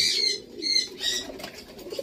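Pigeons in a loft cooing softly with faint chirping and rustling, a low, quiet ambient sound with no voices.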